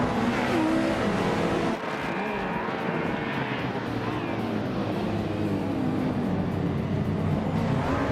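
A pack of race cars starts a Group A race at Du Grand Sambuc, led by a 1986 BMW M3 on pole, their engines a continuous loud roar with no break for the full run.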